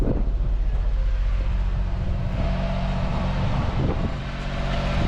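A loud, deep car engine with a custom exhaust rumbles steadily up close, its throaty exhaust droning throughout with some wind buffeting.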